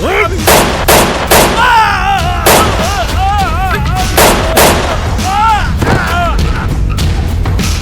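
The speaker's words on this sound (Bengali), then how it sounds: "মির্জাবাড়ির লোকে খানবাড়ির লোকে গুলি করে মেরে ফেলাইছে।" Loud, sharp gunshots crack out in a rapid irregular series, about a dozen blasts, during a shootout scene in a Bangla action film, mixed with tonal wavering sounds between the shots.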